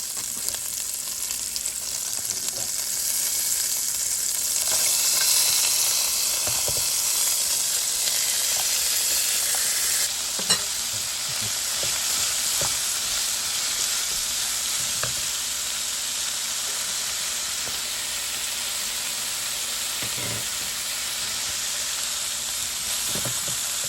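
Vegetables fry in leftover shrimp oil in a pan, a steady loud hiss and sizzle with faint crackles and an occasional utensil tap, continuing evenly with no voices.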